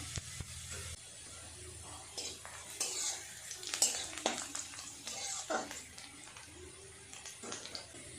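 Onions frying in a pan for chicken do pyaza, a soft steady sizzle with occasional stirring scrapes and clinks close by, no speech.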